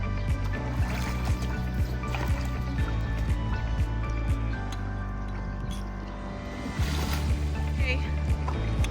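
An Upwell 632 C paddle board launching onto the water: low splashing, dripping and sloshing against the board, close up, with a person talking over it throughout.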